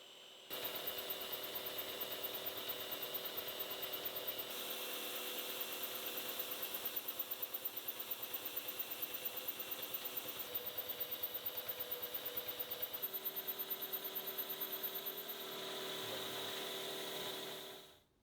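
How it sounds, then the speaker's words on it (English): A metal lathe runs on power feed, producing a steady mechanical whir with a fast, regular ticking from the gears. The sound holds close and even, then drops in level near the end and winds down. "I'm going to switch to power feed though before I wear out my good arm."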